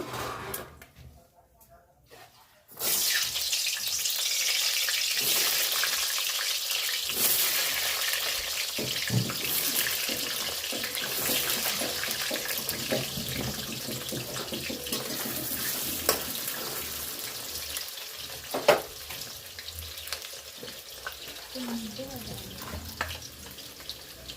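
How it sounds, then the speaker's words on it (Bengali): Potatoes frying in hot oil in a home kitchen, a loud, steady sizzle and hiss that starts abruptly after a quiet opening and continues throughout, with occasional clinks and pops. "আলুগুলো ভেজে নেব।"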